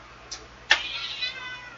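A house cat gives a faint short meow, then a louder, drawn-out meow that trails off, heard close in an otherwise quiet room.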